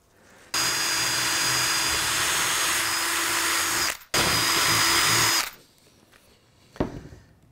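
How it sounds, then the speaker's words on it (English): A power drill bores holes through a model railway baseboard, two loud, steady whining bursts of about three seconds and one and a half seconds, separated by a brief pause, then quieter handling sounds. "I need to drill a couple of holes to get these cables through to the other side of the board."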